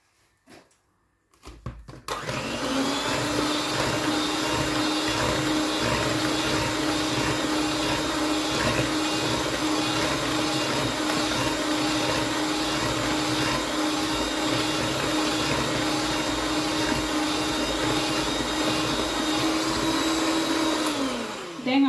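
An electric mixer beats butter and sugar: a loud, steady motor whir that kicks in after a brief clatter and runs unbroken for about twenty seconds, nearby and alone.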